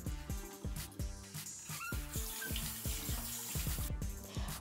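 Tap water runs into a sink while a face is rinsed, a close, moderately quiet flow broken by irregular splashes and patters.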